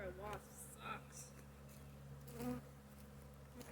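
Honey bees in a large swarm fly close past, giving faint buzzing hums that rise and fade in short passes over a quiet outdoor background.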